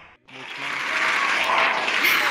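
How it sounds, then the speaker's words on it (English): An audience at a VRChat talent show breaks into a round of applause after a brief voice, swelling quickly into steady, dense clapping that carries on loud and close to the end. "Get your round of applause."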